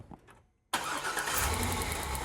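A 2004 Corvette engine cranks briefly and catches, roaring straight into a loud, steady idle after a short near-silent pause, close by with no talking.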